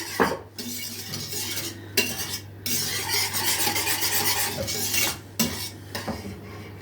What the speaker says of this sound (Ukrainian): Знову ж таки, все старанно вимішуємо